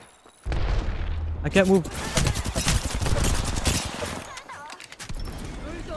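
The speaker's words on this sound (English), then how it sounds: "I heard gunshots." Gunfire in a video game crackles in dense overlapping bursts right after a sudden onset, while a player speaks over the shooting.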